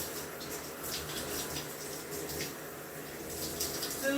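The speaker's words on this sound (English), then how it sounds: "And then I'm just gonna rinse." Running water rinses through hair, a soft, continuous splashing rush heard faintly at moderate distance.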